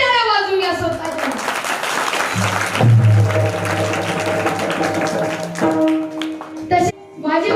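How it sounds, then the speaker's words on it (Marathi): Audience at a kirtan led by a child kirtankar claps in a brief loud burst of many hands, while a voice speaks and chants over it before and after. "तुमच्या सगळ्यांच्या नावाने जोरदार टाळ्या वाजवून घ्या"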